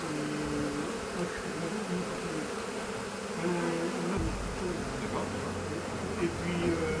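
Honey bee swarm settled on the drawbar of a farm trailer, a dense, continuous buzzing drone up close, with a voice talking faintly underneath.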